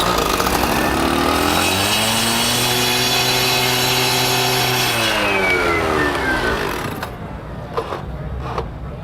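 A 12-inch iQPC912 concrete saw starts and runs loud and close, its engine climbing to a steady high whine with strong harmonics, then dropping away to idle and a few clanks near the end.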